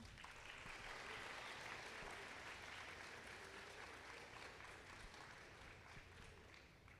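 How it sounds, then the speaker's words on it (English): Families clap at a kindergarten celebration, a sustained, dense round of applause from a crowd that holds steady for several seconds and tapers slightly at the end. "families, let's clap for them one more time"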